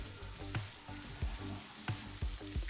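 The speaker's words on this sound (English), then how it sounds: "Next, we're gonna fry the last piece of meat, which is the chicken liver." Chicken liver pieces frying in hot oil for Filipino chicken sisig, a steady close sizzle with repeated stirring clatters and pops, no talking.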